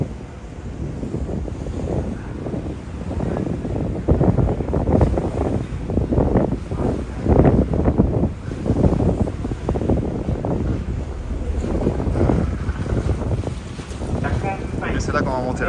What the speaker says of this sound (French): Le vent j'ai pas de contrôle sur ça malheureusement